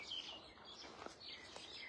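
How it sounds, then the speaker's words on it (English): Birds chirp and sing in the background outside a kitchen, several thin, bright calls and trills overlapping softly at a distance over a quiet room. "And all the birds here are singing here in the background"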